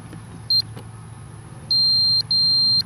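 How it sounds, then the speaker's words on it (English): An Arc-Geo data logger emits a short electronic beep followed by two longer steady high-pitched tones, crisp and close over a low background hum with no speech. "There's the 2 beeps showing that I'm X3."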